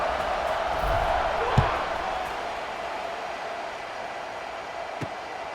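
A stadium crowd in a college football video game roars as a steady, broad wash of distant cheering, with a couple of brief thuds and a commentator's voice faintly underneath.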